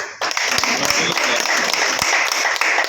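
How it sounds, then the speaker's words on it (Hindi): A crowd claps steadily at a journalists' association meeting in Karnal, a sustained, fairly loud round of applause lasting throughout. "तालियां तो बता दो।"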